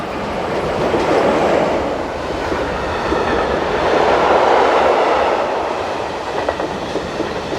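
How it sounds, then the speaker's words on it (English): A freight train passes on a European railway line, a loud, steady rumble of rolling wagons with rhythmic clickety-clack from the wheels that swells and eases slightly throughout. "Heading north is 11189 with this trip freight."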